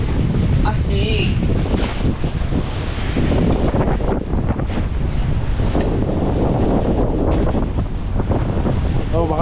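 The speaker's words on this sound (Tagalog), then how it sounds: "Lakas ng hangin mga kabisig." Strong wind buffeting the microphone outdoors near open water, loud rumbling gusts with surf in the background and brief bits of voices.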